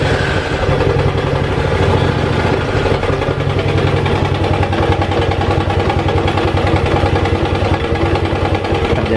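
A motorcycle engine starting up, then settling into a steady, throbbing idle that runs close and loud with an even mechanical rhythm and light clatter, while its battery charging is being checked.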